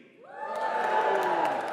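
A graduation audience at Birmingham City University breaks into cheering and whooping, a crowd roar swelling quickly and holding loud to the end, with scattered claps.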